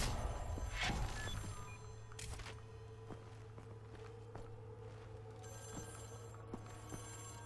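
A telephone rings steadily in the video game Wolfenstein The New Order, a continuous ring under footsteps and occasional soft thuds as the player moves around.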